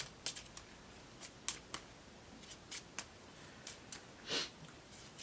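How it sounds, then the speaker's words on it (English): The Mythos card deck of the Cthulhu: Death May Die board game riffles and snaps in a series of short, crisp bursts, fairly quiet and close, with no talking. "you take all the cards that have been revealed and you shuffle the Mythos deck again"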